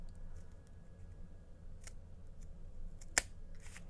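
Scissors make a straight cut through paper for a kids' snowshoe hare craft; a few soft snips and one crisp, sharp cut sound faintly against a quiet room.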